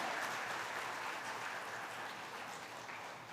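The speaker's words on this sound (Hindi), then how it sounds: "ये तालियां बड़ी कमजोर है" An audience at a Ram Katha religious discourse claps in a dense, steady wash of applause that stays fairly even for about three seconds and fades slightly toward the end, with no voices over it.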